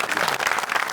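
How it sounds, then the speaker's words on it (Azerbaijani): Audience applause at a comedy show, dense steady clapping from a crowd filling the whole second with no speech over it. "Bu alqışlar hər kəsindir."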